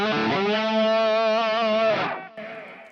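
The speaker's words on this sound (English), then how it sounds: "It's a good delay for slide." Electric slide guitar runs through a delay effect, one sustained, wavering gliding note with rich harmonics that fades, then a softer delayed repeat trails off.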